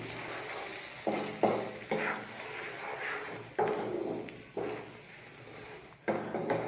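Tomato puree mixture being stirred in a hot pan, a steady sizzle and frying hiss broken by repeated scraping strokes of a utensil against the pan, close and fairly loud with no talking.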